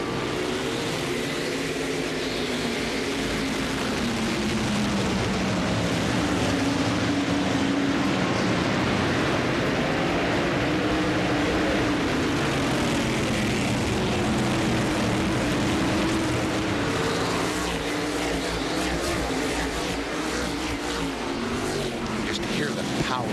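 600-horsepower Southern Modified race cars at Langley Speedway roar together in a loud, continuous pack, engine tones rising and falling as they sweep by, with a commentator talking over the din throughout.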